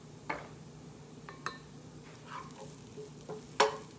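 Sweet tomato sauce for meatloaf being stirred in a pan, a soft low sizzle under a few scattered clinks of a utensil against the pan, the sharpest one near the end.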